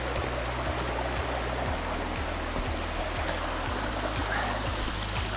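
Shallow stream on the Bruce Trail in Beaver Valley running over rocks, a steady close rushing and gurgling wash throughout, with faint regular ticking underneath and no talk.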